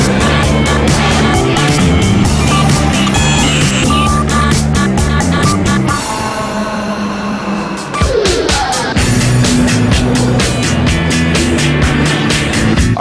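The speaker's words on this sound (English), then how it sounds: "I'm driving a spider, the Mondo Spider" The Mondo Spider, a large walking vehicle, is driven at a CES show, giving a loud, dense mechanical clatter with rapid rhythmic stepping thumps and whine that runs almost continuously for about thirteen seconds.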